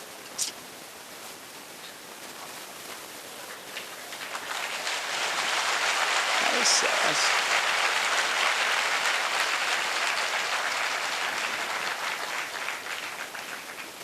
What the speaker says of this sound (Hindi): तालियां फिर ऐसी बजनी चाहिए कि हाथ गर्म हो जाए, पसीने आ जाएं